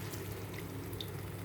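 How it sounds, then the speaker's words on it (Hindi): A little water poured into whisked yogurt in a pan while making dum arbi, a steady soft splashing and trickling that runs unbroken and close, with no talk over it. "अब हम इसमें डाल रहे हैं दही, फेंट दिए मैंने, और साथ ही साथ थोड़ा सा पानी"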